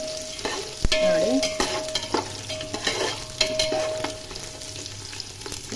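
Crushed garlic frying in oil for a poha chivda snack, a steady close sizzle with repeated stirring scrapes and clinks running through the whole stretch, no voices.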